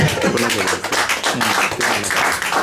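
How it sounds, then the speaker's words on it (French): Rhythmic group clapping at a church service, steady beats from many hands close by, loud and continuous over a low hum of voices. "Applaudissons pour le Seigneur."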